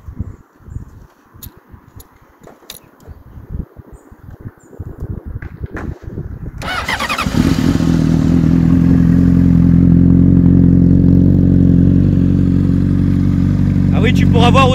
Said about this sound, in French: Je vais te faire écouter vite fait le son de la moto.